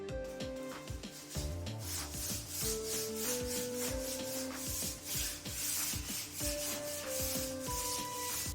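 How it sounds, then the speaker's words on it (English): A stained hardwood synthesizer endcap for a Roland Juno-60 is sanded by hand, with continuous scratchy rubbing strokes in a steady back-and-forth rhythm at close range while a soft melodic tone plays underneath. "it's imperative that the sanding is done with extreme care."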